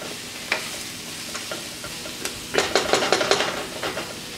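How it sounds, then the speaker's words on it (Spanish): Garlic and onion sauté in a large pot, with a faint sizzle under scattered clinks and scrapes of a utensil stirring against the pot. The stirring turns into a quick run of sharper knocks toward the end. "No vamos a guisarlos mucho, solamente a sofreírlos también."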